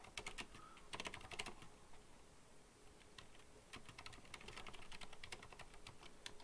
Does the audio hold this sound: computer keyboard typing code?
yes